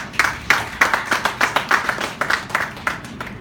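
Applause at a meeting of water and sanitation delegates for the AU Commission for Rural Economy and Agriculture: a crowd claps steadily, with dense overlapping claps and rhythmic peaks, moderately loud and close.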